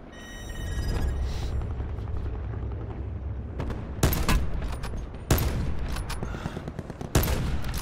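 Gunfire in a battle royale video game: sustained dense rattle of shots with several sharper, louder bursts standing out, heard close and without talk.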